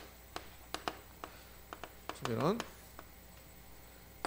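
Sharp, dry taps and short strokes of writing on a board during a lecture, scattered irregularly across a quiet room, with one brief squeaky smear in the middle.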